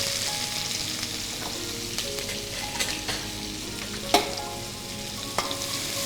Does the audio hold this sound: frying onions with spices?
yes